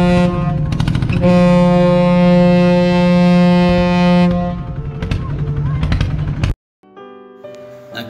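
A ship's horn sounds as a boat departs Con Co island off Quang Tri, Vietnam: a loud, deep, sustained blast lasting several seconds, fading, then a brief quieter tonal sound after a cut.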